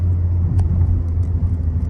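Renault Twingo II 1.2 16V with Quickshift gearbox making a U-turn, a steady low engine and road rumble throughout at close range with faint higher ticks, no talking.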